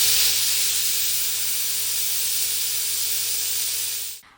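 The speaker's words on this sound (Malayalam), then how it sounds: "അങ്ങനെ 2 വിസിൽ വന്നിട്ടുണ്ട്." A pressure cooker releases a steady, loud, continuous hiss of steam for several seconds while cooking chicken stew on a stove, then cuts off abruptly.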